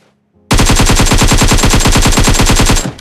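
Automatic gunfire from the mobile battle royale PUBG Mobile on the Miramar map, a loud, close burst of rapid evenly spaced shots lasting a couple of seconds after a brief quiet start.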